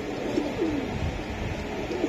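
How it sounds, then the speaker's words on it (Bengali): Pakistani Teddy pigeons in breeding mode give a few soft, rolling coos close by, spaced out over a quiet, slightly hissy room tone. "দেখছেন কবুতর গুলো আমার কিভাবে ব্রিডিং করতেছে"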